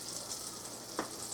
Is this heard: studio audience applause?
no